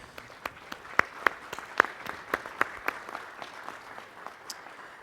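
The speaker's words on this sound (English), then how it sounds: "Please, a round of applause for Provost McFerrin." Scattered, fairly faint applause from a lecture audience welcoming an interim provost in a room, individual claps standing out sparsely before fading, with no talk.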